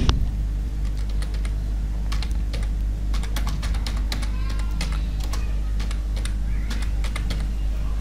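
Someone typing on a computer keyboard, a rapid, uneven run of close, crisp key clicks over a steady low hum, with no talk.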